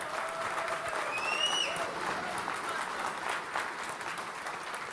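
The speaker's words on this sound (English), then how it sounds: "let's have a round of applause for the entire CryptoDATA team" Crowd at a corporate tech event applauds a company team, sustained clapping with a few whoops and whistles rising briefly over it near the start.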